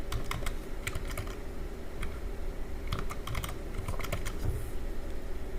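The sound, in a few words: typing a password on a computer keyboard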